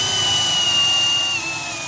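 A power drill bores holes, giving one loud, close, steady high-pitched whine that eases off slightly near the end of a short burst.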